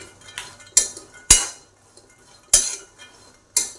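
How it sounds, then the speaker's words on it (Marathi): Peanuts roast in a pan over medium heat, with a utensil knocking and scraping the metal in sharp, irregular clinks separated by quiet gaps, close and fairly loud. "आता आपण शेंगदाणे भाजून घेऊया."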